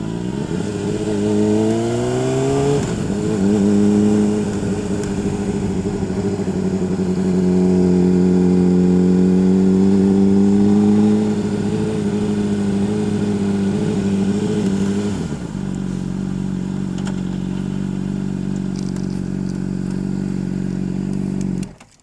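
A motorcycle ridden on the street, its engine droning steadily with rising and falling rev tones up close, then settling to a lower steady rumble near the end; no talking.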